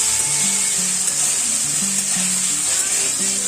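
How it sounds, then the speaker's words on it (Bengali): Vegetables frying with turmeric and salt in a pan, a steady bright sizzle with occasional stirring scrapes, close and continuous without talk. "দিয়ে ভালো করে ভেজে নেব।"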